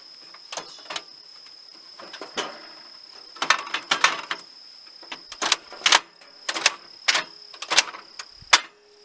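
Gas camping cookers are lit with a series of sharp igniter clicks, some single and some in quick clusters, over a faint steady hiss in a quiet outdoor setting.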